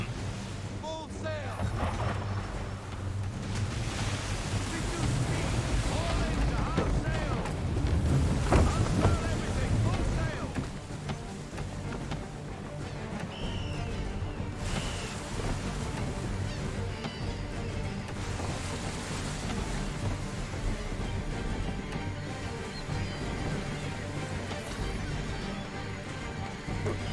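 A sailing ship runs at full sail across waves in Assassin's Creed III, with steady rushing wind and water, creaking, and a swell of louder surf midway, while a voice talks over it.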